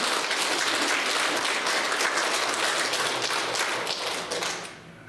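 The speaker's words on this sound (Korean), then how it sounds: "우리 성가대원 격려하는 마음으로 박수 받도록 하겠습니다" Church congregation applauding the choir, dense steady clapping from a crowd in a reverberant hall, fading off near the end.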